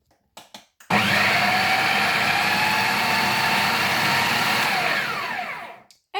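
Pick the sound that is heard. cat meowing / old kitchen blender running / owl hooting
old kitchen blender running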